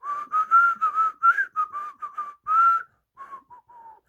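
Someone whistles a lively melodic tune in a string of short, clear notes and phrases, close and alone, ending with a few softer notes.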